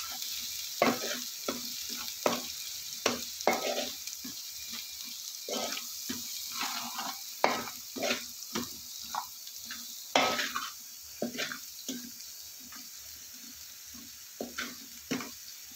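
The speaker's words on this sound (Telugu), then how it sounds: "ఉల్లిగడ్డ మగ్గేంత వరకు నూనెలో బాగా ఇది చేసుకోవాలండి" Onion with chilli powder, turmeric and salt sizzles softly in oil for Andhra fish curry, while a spoon scrapes and clacks against the pan in a quick, uneven rhythm throughout.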